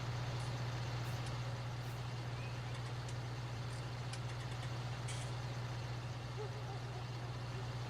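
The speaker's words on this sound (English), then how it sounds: "The only thing that's running is the main harvester engine" Combine harvester engine in Farming Simulator 19 running steadily, a constant low droning hum with a continuous broadband rumble, no talking over it.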